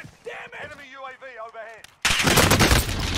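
Gunfire in Call of Duty Warzone breaks out suddenly as a loud, dense burst of shots, following a stretch of talking and voice chatter.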